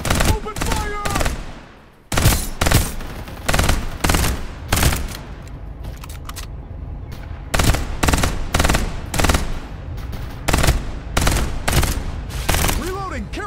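Heavy automatic gunfire in a Fortnite-style battle royale game, loud rapid bursts crackling one after another with short breaks between volleys.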